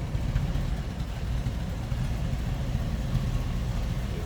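A 1966 Buick Riviera Sport Coupe with its numbers-matching 425 V8 idles through a mild exhaust, giving a steady, even low rumble close by with no talking.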